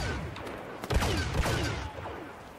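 Gunfire from a sniper rifle rings out in the Star Wars Battlefront video game, a few sharp blasts over a dense, busy battle soundscape with no talk.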